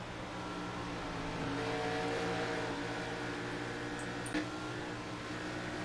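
A NASCAR stock car in the iRacing sim at Atlanta drones steadily at high revs with layered engine harmonics, a sustained even roar throughout with a faint rise midway and no talk.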